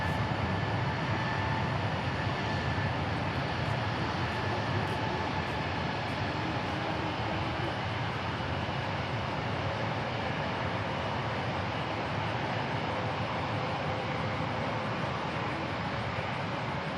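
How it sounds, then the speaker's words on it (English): An Airbus A320neo airliner departs an airport, heard as a constant distant engine roar with a faint whine, steady and unbroken throughout. "So this is an A320neo going to San Francisco."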